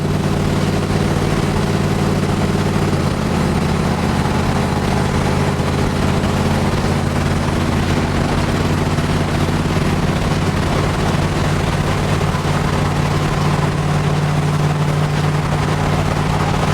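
A resurrected cab-over-engine truck cruising on the freeway, its heavy engine droning loud and steady from inside the cab with a low rumble and road roar, pitch shifting slightly as it works.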